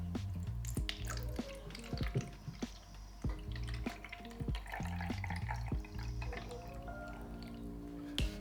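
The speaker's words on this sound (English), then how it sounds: "You take some water and just fill it up." Water is poured into the water tank of a Deenkee D40 robot vacuum mop, making faint, close trickling and dripping splashes in uneven bursts.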